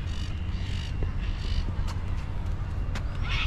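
Ibis calls harshly in short croaking bursts over loud steady outdoor rumble by Sydney Harbour near the Botanical Gardens, fairly distant and partly masked.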